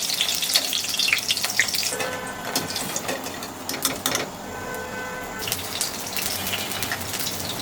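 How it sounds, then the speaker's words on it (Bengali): Thin pieces of banana stem fry in hot mustard oil, giving a loud, continuous crackling sizzle with dense spattering pops throughout. "সরিষার তেল দিয়ে ভাজবো, সুন্দর করে মিক্সড করে নেব।"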